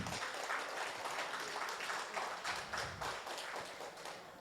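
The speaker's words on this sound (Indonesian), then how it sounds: "Aplaus dulu dong buat teman-teman." An audience at a community sharing session applauds, with a few seconds of dense, steady clapping, moderately distant and fairly soft throughout.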